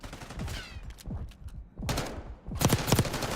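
Rapid bursts of gunfire in a professional Call of Duty League match, sharp cracking shots in quick clusters with short gaps between volleys, fairly close and loud.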